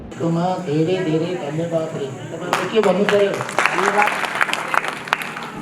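A voice talks, then a burst of clapping from a group of schoolchildren breaks out at a school in Laprak, Nepal, carrying on under the speech, lively and close.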